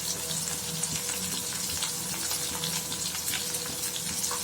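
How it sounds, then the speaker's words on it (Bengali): Potato pieces with a little salt and turmeric fry in a pan, a close, busy sizzle with watery crackle and occasional soft clinks, no one talking. "আলুর টুকরোগুলো এর মধ্যে দিয়ে প্রথমে আমি 2-4 মিনিট একটু ভালো করে লাল লাল করে ভাজা ভাজা করে নেব।"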